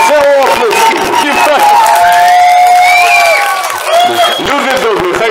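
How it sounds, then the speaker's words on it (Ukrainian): A festival crowd applauds and cheers loudly for a performer, with a continuous wash of clapping, whistles and shouting voices over several seconds, while someone talks over the noise. "О, оце оплески!"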